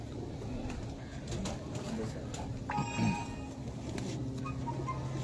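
Pigeons at a rooftop loft coo in low repeated murmurs, with a brief higher electronic tone partway through and someone talking nearby over the birds.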